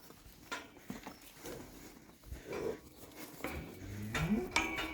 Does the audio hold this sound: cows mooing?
yes